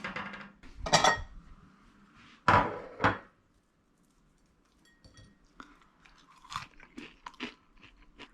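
Crunchy baked onion bhajis are bitten and chewed up close, a few loud crisp crunches followed by quieter chewing with faint clinks of dishes nearby.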